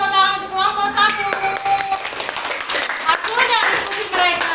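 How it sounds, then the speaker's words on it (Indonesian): Students in a classroom clap together in a brisk, lively burst of applause that runs throughout. Voices and chatter are mixed in with the clapping. "Kasih tepuk tangan untuk kelompok 1."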